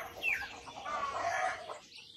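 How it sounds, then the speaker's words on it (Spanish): Hens calling in the open countryside of Puerto Rico, with mountains and a lake nearby; faint, overlapping chirpy clucks and calls sound steadily from a distance over soft ambient noise. "escúchenlas ustedes al fondo, escuchen las gallinas"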